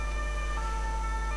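Ambulance siren from the Emergency 4 video game with the Barcelona mod, a steady electronic wail that holds continuously over a constant low engine drone, moderately quiet and alone without talk.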